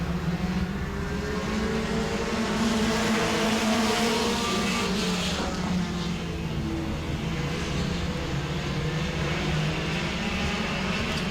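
Several Mini Stock race cars roar together on the track at Auburndale in a steady, loud drone, with pitch shifting as cars jostle and pass.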